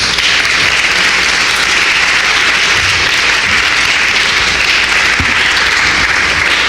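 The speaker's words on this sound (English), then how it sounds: "Please give a warm round of applause for attorney Nkechi Taifa" Sustained audience applause at a reparations convention in Washington, DC for attorney Nkechi Taifa, a dense, steady wash of clapping that runs loud and even from start to finish with no voices over it.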